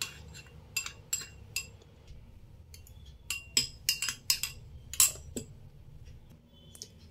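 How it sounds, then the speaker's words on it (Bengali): Spoons clink repeatedly against a bowl while green chili sauce, soy sauce and vinegar are stirred together for chilli fish, with bright, irregular metallic taps over a low background hum and no talking. "দেব 2 টিস্পুন গ্রিন চিলি সস, দেব 1 টিস্পুন সয়া সস আর 1 টিস্পুন ভিনিগার। একসঙ্গে মিশিয়ে নেব।"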